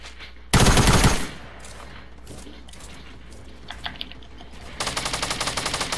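Fortnite gunfire: a loud burst of rapid automatic shots, then quiet with faint game sounds, then another sustained run of quicker, softer shots near the end.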